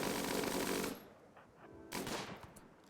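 Rimworld gunfire: a dense burst of rapid automatic shots fills the first second, a pause with faint shots, then another volley of fire, loud and close with no talk.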